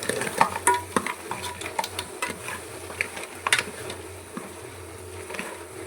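Masala spice paste for a village-style crab curry sizzling in a pan as it is stirred, with steady close frying hiss and occasional scraping clinks from the spoon and nobody speaking.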